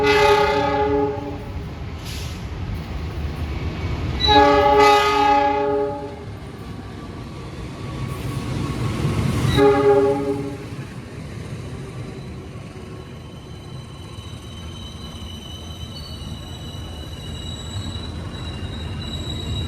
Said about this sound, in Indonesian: Ada Wijaya Kusuma masuk di jalur 2